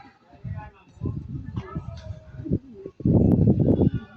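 Racing pigeons coo in a loft, soft repeated low coos mixed with wing flutters and shuffling, with someone talking over them throughout.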